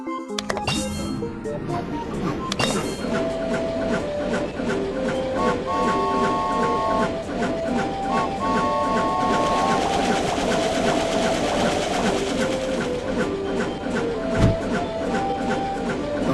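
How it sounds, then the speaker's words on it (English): A cartoon train from an animated baby panda winter train tour, moving and turning with a rhythmic chugging clatter and whistle-like tones under bright background music for about sixteen seconds. "The train is about to turn."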